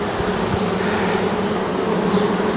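Honey bees buzz steadily across a crowded hive frame, a dense, close, continuous drone with no pauses and no voices.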